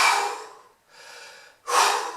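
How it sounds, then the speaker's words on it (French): Deep breaths drawn through mouth and nose together during a yoga session: a loud airy exhale, a quieter breath after a short pause, then another strong rush of air, close and with no talking. "Respire par la bouche et le nez en même temps."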